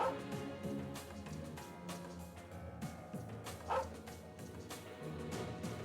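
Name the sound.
dog barking in video game Trails of Cold Steel II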